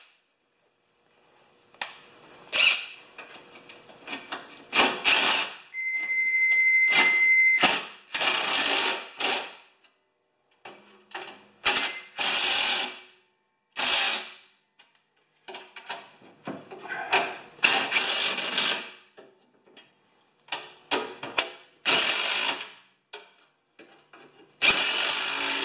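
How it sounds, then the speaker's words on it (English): Bolts being tightened on the skid plate of a Toro snowblower fitted with a homemade scraper bar, heard as bursts of ratcheting and metallic clicking separated by short pauses, close and fairly loud, with no talking. "I'm just going to tighten it up temporarily to see what we end up with here."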